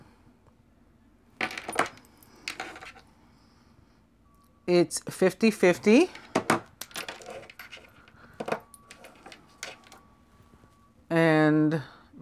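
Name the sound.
dice being rolled during a card and dice reading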